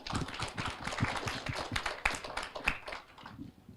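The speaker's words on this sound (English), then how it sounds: "Give applause to all of us." An audience at an international academic conference gives a round of applause, with uneven, fairly close hand claps that fade toward the end.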